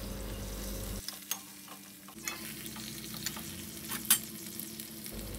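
Whole gunda with turmeric added to hot oil in a pan over a lowered gas flame, a steady sizzle and frying crackle with a few clinking stirs of a spoon, close up, then quieter sizzling.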